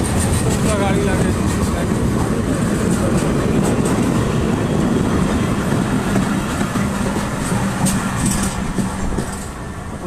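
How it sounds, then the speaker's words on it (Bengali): A rescue train runs through Phulbari station with loud, continuous rumbling wheels and a rhythmic clickety-clack. The noise stays close and steady, then eases off slightly at the end. "উদ্ধারকারী ট্রেন ফুলবাড়ি থ্রু পাস গেল"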